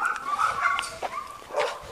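A large dog resembling an Irish wolfhound gives short yips and soft whimpering barks, close by and alone, in a few quick bursts.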